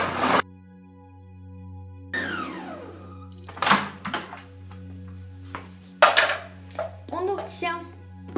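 A Moulinex Companion food processor chops carrots at speed 11: a steady low motor hum runs throughout, broken by loud bursts of rattling and clattering as the pieces are thrown against the blade and bowl, with a brief voice near the end.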